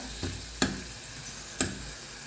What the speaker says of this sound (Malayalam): ഇതിനി നമുക്ക് മീഡിയം ഫ്ലെയിമിൽ വെച്ച് ഒന്നിങ്ങനെ വഴറ്റിയെടുക്കാം